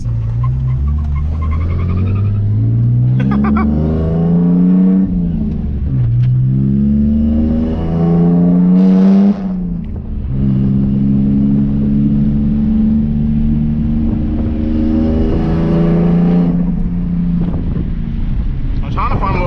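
A car with a welded differential accelerates hard on a street, its engine revving up through rising gear pulls with a brief break between gears, loud and close under wind buffeting, and a voice talks over it.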